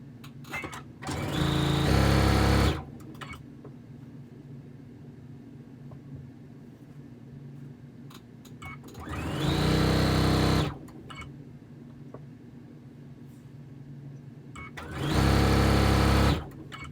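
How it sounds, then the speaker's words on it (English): Home sewing machine chain piecing quilt fabric for a fan blades quilt, running in three loud steady bursts of about two seconds each, separated by quiet pauses with faint handling noise. "now I'm gonna chain piece these"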